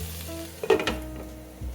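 Chicken and pineapple chunks cooking in a pan for sweet and sour chicken, a soft sizzle with a brief clatter of stirring in the middle, alone without talk.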